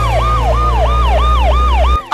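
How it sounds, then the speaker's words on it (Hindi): Wailing police siren close by and loud, sweeping up and down in a steady repeated cycle about every third of a second, over a low droning engine rumble, then cutting off abruptly near the end. "अरे तो पुलिस के सायरन आ रहे"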